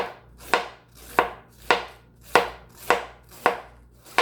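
A knife slices cabbage very thin for homemade Slavic-style sauerkraut, seven crisp, evenly spaced cuts landing close and clear against a board, with no talking.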